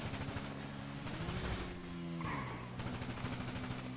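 Rapid gunfire aimed at police during a video game heist, a steady run of shots over droning game music, with no talking.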